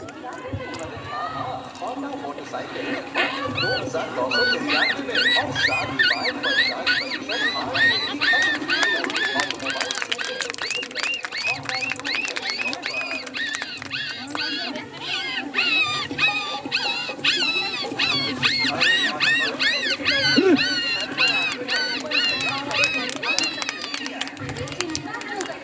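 A person imitates puppy whimpers and yelps with the voice, a long run of high, repeated yapping cries mixed with speech and chatter from a group nearby, loud and continuous throughout.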